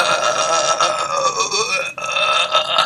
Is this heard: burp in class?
yes